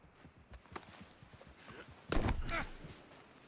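Horse hooves clip-clop at a slow walk through Red Dead Redemption 2, a soft steady rhythm of light steps, faint and close, with a louder burst of movement midway.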